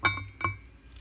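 Metal wheel spacer clinking as it slides out of a rusted Harley-Davidson FLH Shovelhead cast AMF wheel hub, two quick bright taps close by, the second a little louder, then quiet.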